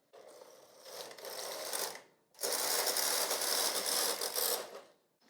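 Brother 965i knitting machine carriage sweeping leftward across the needle bed during Fair Isle work, two long mechanical whirring passes with ratcheting clatter, close and fairly loud, separated by a brief pause.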